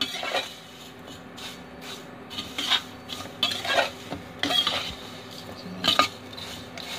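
Semai vermicelli being fried in a pan, with a series of scraping, clinking spoon strokes against the metal over a low background, irregular and close, no voices.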